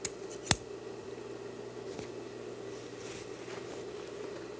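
Scissors snip through excess upholstery fabric while a throw pillow is made during sofa reupholstering, giving a couple of sharp, close cuts near the start and then quiet handling noise.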